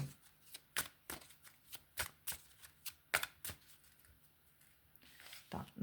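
Tarot cards shuffled and snapped down in a quick, uneven series of crisp slaps and riffles, close by, with no talking.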